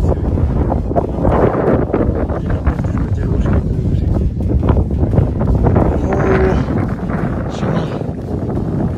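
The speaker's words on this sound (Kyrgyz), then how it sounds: "Шамал." Strong, cold wind on a mountain summit buffets the microphone in a continuous low rumble with gusting surges, while faint voices come and go in the background.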